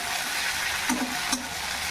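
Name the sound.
green chillies and spices being sautéed for chicken stew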